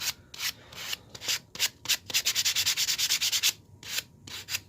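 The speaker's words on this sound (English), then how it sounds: "one last quick little sand just by hand, just to get all the little fuzzies off" Hand sanding on a carved wooden figure gives a close run of rhythmic rasping strokes, speeding into quick even back-and-forth rubs before slowing, with no talk.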